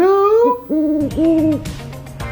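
Owl hoots used as a sound effect for the FAU Owls football team: several clear, close hooting calls in quick succession, gliding and wavering in pitch, with no voices over them.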